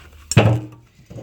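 A knife chops into the top of a coconut shell, giving one sharp, close thwack and then a smaller knock.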